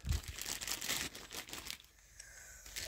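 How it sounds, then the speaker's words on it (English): Small plastic bag holding parts for a motorcycle sprocket conversion kit crinkles and rustles as it is opened close up, a short burst of crackling handling noise that tapers off. "Little plastic bag"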